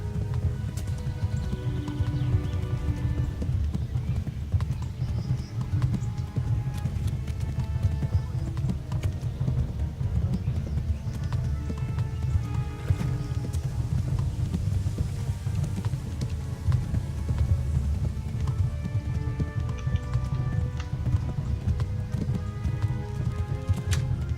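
A horse gallops steadily in Kingdom Come: Deliverance, its hooves pounding in a continuous, loud, close rhythm throughout, with a faint rumble of other game sound underneath.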